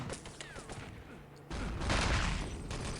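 Rifle shots crack in a competitive online shooter match: scattered sharp reports at first, then a louder, sustained stretch of firing.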